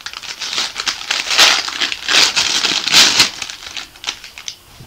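Paper and plastic packaging crinkling and tearing as a subscription box is opened, a close, busy run of rustles and rips with louder bursts throughout.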